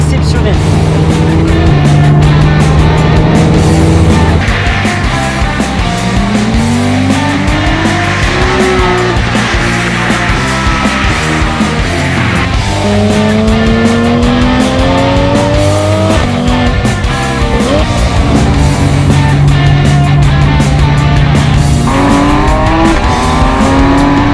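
A Porsche 911 GT3 RS, a light 1,400 kg supercar, runs hard on a race circuit, its engine roaring loudly and continuously with rising and falling revs as it shifts through gears, plus occasional tire squeal.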